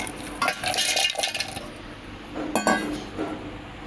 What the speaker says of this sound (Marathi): आता आपण बर्फ घालणार आहोत।